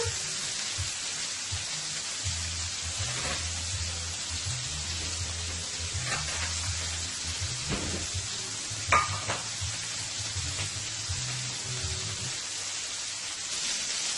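Shrimp cooking in a hot pan alongside a ribeye steak, a steady close crackling sizzle with faint scattered pops and clinks throughout.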